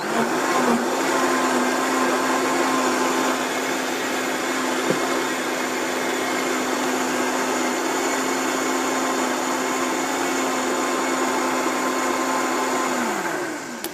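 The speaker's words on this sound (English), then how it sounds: "we could keep it going in the blender for just a few minutes and it would warm it up really nice" A kitchen blender runs continuously on raw food with fresh organic ginger, a loud, steady motor whir that holds unbroken for about fourteen seconds before winding down at the end.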